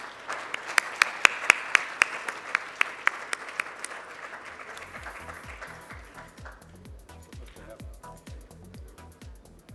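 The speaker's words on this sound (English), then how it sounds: "with a huge round of applause, please welcome UNESCO MGIP Director, Anantha Duraiappah" A large audience breaks into a burst of loud, sharp clapping to welcome a speaker at a 2018 TECH Talk event, the applause strongest at first and then thinning into scattered claps.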